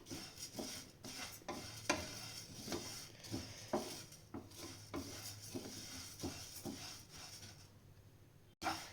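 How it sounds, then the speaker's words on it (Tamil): Dry rice and lentils scraped and stirred in a pan while roasting, with a rhythmic, repeated spoon scraping and a faint sizzle-like hiss underneath. "சேர்த்துட்டு இப்போ ப்ரௌனிஷாக வறுத்துக்கலாம்."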